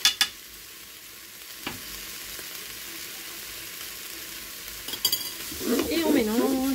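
Potato curry with tomato paste is stirred in a pot, soft scraping and clinks of a utensil against the pot over a low background, sharper knocks near the start and middle, then a brief voice-like tonal sound at the end.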